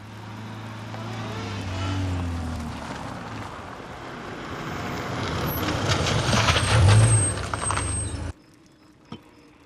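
A truck idles with a low engine rumble that builds, then a sharp hiss of its air brakes releases near the end before the sound drops away, no speech.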